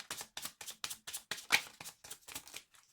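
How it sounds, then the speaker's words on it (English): Tarot cards riffle and slap in a rapid, regular series of crisp bursts, close and fairly quiet, with no talking. "Last shuffle."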